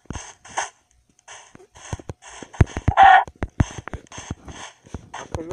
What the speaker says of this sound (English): Look at the chicken.